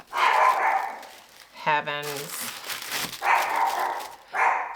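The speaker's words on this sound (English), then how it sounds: "she looks outside the entire day so she can bark at anything that drives by or walks by." A pet dog barking from a window, a short bout of barks in the middle, with someone talking before and after.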